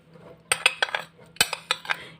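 Hand whisk clinking against a bowl while mixing powdered sugar, a series of sharp metallic taps in two quick bursts, close and fairly quiet.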